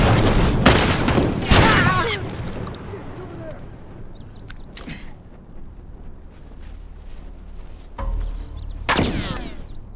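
In the video game The Last of Us Part 1, several heavy explosion and gunfire bursts hit close and loud, with a shout over them and more blasts toward the end between quieter stretches.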